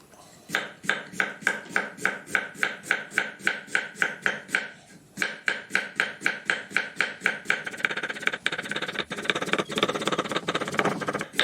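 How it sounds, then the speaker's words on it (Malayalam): A sharp knife slices raw banana into thin rounds for banana chips, giving a fast, steady run of crisp, evenly spaced chops on a board, close and clear, with a brief pause before the rapid cutting resumes and grows denser. "അപ്പോൾ നമുക്ക് ഇനി കായ നൈസായിട്ട് അരിഞ്ഞെടുക്കണം"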